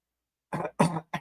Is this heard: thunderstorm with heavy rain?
no